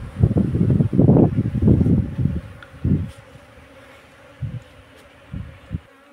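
Honey bees buzzing around an open hive of eight or nine frames at a bee farm; a close, uneven hum with louder surges early on that thin out into softer, intermittent buzzes.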